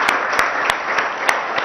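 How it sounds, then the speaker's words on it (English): Audience applause at a Formula E event in a minister's speech setting, a dense wash of crowd clapping with a few sharper individual claps standing out at a steady pace, alone and fairly loud. "they deserve a huge round of applause from all of us"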